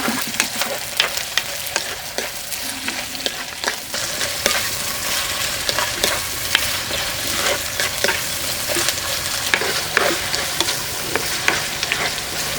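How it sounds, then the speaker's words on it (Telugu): Onions fry with whole spices in hot oil for a soya chunk biryani, giving a bright, continuous sizzle close by, broken by frequent sharp spatula scrapes and stirs, with no voices. "అలాగే వెంటనే ఉల్లిపాయలు కూడా వేసేసుకుని బ్రౌన్ కలర్ వచ్చే వరకు వేయించుకుందాం."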